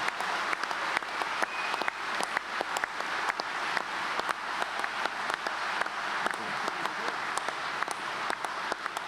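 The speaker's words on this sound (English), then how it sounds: "let's give a warm round of applause to all those standing for the SNP in the forthcoming council" SNP spring conference hall audience gives sustained applause for the party's council election candidates, a broad, even roar of many hands with distinct sharp claps standing out throughout.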